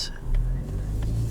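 A 2020 Mazda3 hatchback's naturally aspirated 2.5-liter four-cylinder engine pulls under acceleration, a steady low drone heard from inside the cabin.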